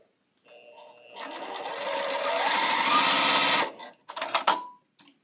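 A sewing machine stitches small quilt pieces for a Halloween quilt, running steadily and close for a few seconds, then stopping with a few short bursts and clicks.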